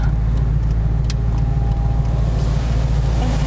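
Maserati GranTurismo S 4.7 MC engine heard from inside the moving car, a steady loud low drone with road rumble, the engine note shifting slightly as gears change at high revs.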